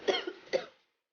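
Two coughs from one person, about half a second apart, close and fairly quiet, after gargling a bitter liquid for a throat infection; they fade into silence at the end.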